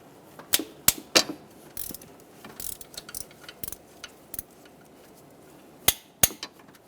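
A ratchet wrench removes a bolt from the knock sensor area of a 2003-2008 Honda Pilot, giving a scattered series of sharp metallic clicks and knocks at close range, with a few louder snaps near the start and end.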